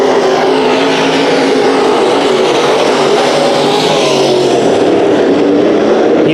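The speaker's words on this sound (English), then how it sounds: "And Bennett out to an early lead in this one, the 5B machine" Race cars roar through a heat race at Bakersfield Speedway, a loud continuous engine drone that stays steady and close throughout, with no talking over it.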